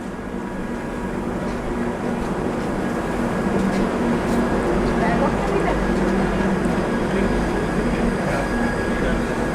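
A North Bengal-bound train at Ranaghat Junction railway station rumbles loudly and continuously, with a steady low drone and wheel noise filling the platform and crowd voices mixed beneath.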